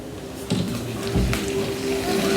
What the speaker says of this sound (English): Ooh, that's the sizzle I want to hear.